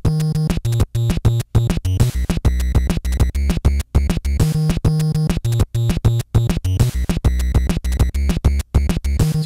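Punchy 8-bit NES drum pattern with low kicks and noisy snares alternating, never together, in a steady, fast rhythm, loud and continuous with tonal chip bass underneath.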